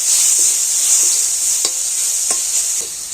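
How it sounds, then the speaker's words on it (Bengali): Chopped tomato frying in hot oil, giving a constant bright sizzle up close with several sharp spatula scrapes and taps against the pan, and no talking. "টমেটোটাও তেলের উপর একটু ভেজে নেব"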